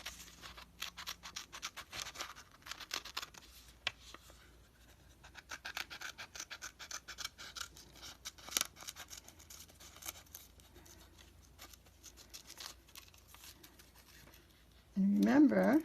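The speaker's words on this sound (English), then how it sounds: "And then you can take your scissors." Scissors snipping through paper in a run of short, crisp cuts, with soft rustling and brief speech at the very end.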